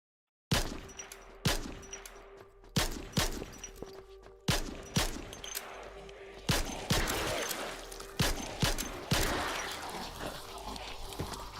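Rifle gunshot sound effects are tested in a game under development: about a dozen sharp, loud single shots, each with a short decaying tail, fired at uneven intervals of roughly one second.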